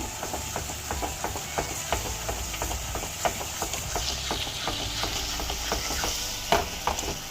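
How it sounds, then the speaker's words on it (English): Dry fruits stirred in ghee in a pan: a steady run of quick spoon-against-metal clicks and scrapes over a low, continuous sizzle, close up, with no voices. "And we have to stir it for 3-4 minutes."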